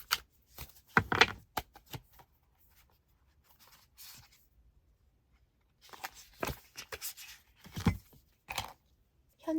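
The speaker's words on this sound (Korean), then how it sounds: "그러면 쌍둥이 분들을 위한 좋은 카드 뽑아볼게요" Tarot cards being shuffled and handled at a reading, with several soft, close bursts of riffling and sliding card stock separated by near-silent pauses.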